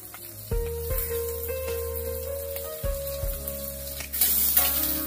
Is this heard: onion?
yes